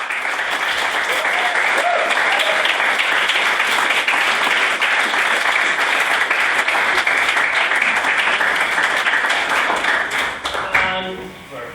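Sustained, dense audience applause fills a debating hall after a maiden speech on whether children are the property of the state, steady and loud for about eleven seconds before tapering off at the end.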